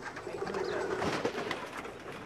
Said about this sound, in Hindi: बाहर निकाल रहे हैं कबूतर